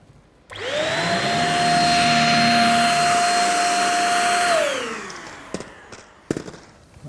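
A cordless vacuum cleaner picks up fine dust on a hard floor. It switches on with a loud, steady whine for about four seconds, winds down, and is followed by a few sharp clicks and knocks.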